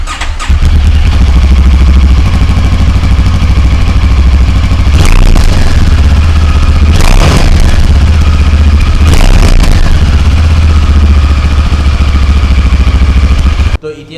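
A 2022 CFMoto 650 cc motorcycle fires up almost at once and settles into a loud, close, steady idle with a deep throb and a few revs, until it cuts off at the end.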